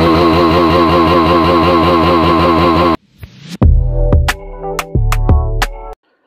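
A KTM Duke 390 motorcycle engine runs with a loud, even, throbbing pulse close by for about three seconds before cutting out, followed by other unrelated tonal sounds.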